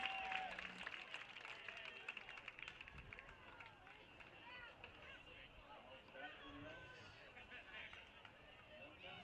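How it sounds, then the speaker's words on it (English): A distant, diffuse crowd at a summer collegiate baseball game between the Bend Elks and Springfield Drifters claps in a soft, continuous patter with chatter and babble mixed in, fairly faint and fading slightly after the first few seconds. "Give them one more round of applause"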